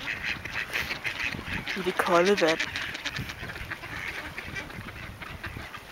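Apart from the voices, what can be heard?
ducks bathing in cold water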